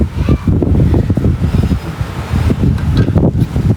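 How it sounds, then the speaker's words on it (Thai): Strong wind before rain buffets continuously, with heavy gusty rumbling and roaring close up, steady throughout without a break. "ลมแรงเพราะฝนจะตก"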